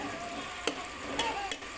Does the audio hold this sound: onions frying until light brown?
yes